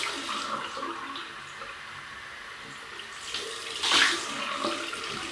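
Cold tap water runs steadily for a rinse during a wet shave with a FatBoy-replica razor, swelling into a louder gush briefly near the end before settling again, with no voices.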